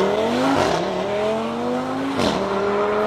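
A tuned 800 hp Audi TT RS pulls away hard, its engine note climbing loud and close through rising harmonics, with a brief dip at a gear change before it surges upward again.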